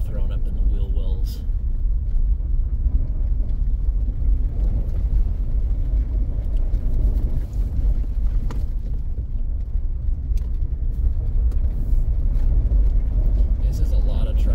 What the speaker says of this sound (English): Snow getting thrown up in the wheel wells.